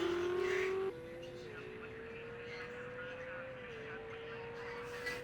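GT3 race cars lap the Zolder circuit in a racing video game, with a single steady engine drone whose pitch drops at gear changes and then climbs slowly, heard at moderate distance.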